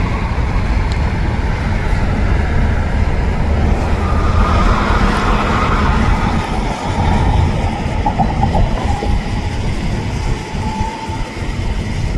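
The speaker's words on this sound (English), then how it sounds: "we would see a Union Pacific train going over the Mississippi River" A Union Pacific freight train crosses a bridge over the Mississippi River, its steady rumble and wheel clatter loud and continuous throughout, with no talking.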